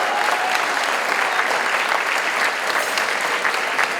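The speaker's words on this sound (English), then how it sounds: "So I'd like everybody a round of applause for Pete and Julie." A gala audience bursts into loud, steady applause for two honorees, thick overlapping clapping heard close and continuous throughout, with no voices on top.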